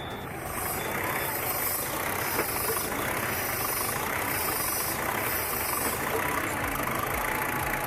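A large DAF truck engine idles loudly and continuously, its roar surging up and down in slow waves with a faint high whine on top.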